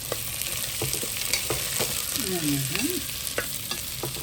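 Onions frying in oil for a Jaffna-style chicken curry: a steady, close sizzle with sharp clicks of a spoon stirring the pan and a brief whistling tone partway through.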